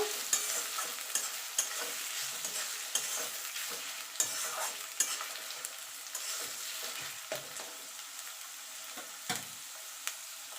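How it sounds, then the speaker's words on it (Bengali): Chopped onions sizzle steadily in a hot pan for ghugni, with frequent stirring knocks and scrapes of a spatula breaking the even crackle, close up and without talk. "পেঁয়াজটা একটু ভাজা ভাজা করে নেব।"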